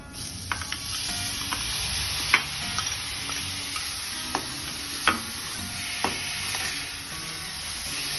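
Dal fries on a high flame with a steady sizzle while tomatoes are added and stirred in, a spoon scraping and clinking now and then against the pot.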